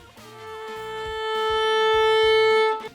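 A violin bowed on the A string holds a bright sustained tone that swells in a slow, steady crescendo, imitating a car drawing closer, then cuts off. It is close and played alone.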